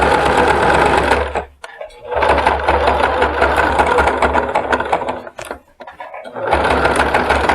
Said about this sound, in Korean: 자, 이제 끝끝이 한번 박음질을 하면서 모자를 마무리해 봅니다.